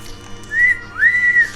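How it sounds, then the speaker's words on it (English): Whistle item in the video game Final Fantasy II: two clear, pure whistle tones, a short one followed by a longer rising-then-steady one, heard alone without speech. "Whistle can be used to call out the big chocobo"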